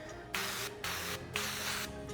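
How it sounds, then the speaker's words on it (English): Duck fat cooking spray hisses onto pork in three quick bursts, each about half a second long, close and crisp, with brief pauses between them. "And for our binder, we're gonna use our duck fat spray."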